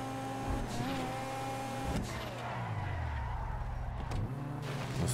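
A car in GTA Online drives with a revving engine whose pitch rises and falls, then slows under braking, close and steady.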